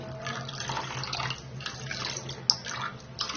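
Water is poured into a pan of fish curry with tamarind pulp, giving a steady, fairly soft splashing stream with a small splash near the end.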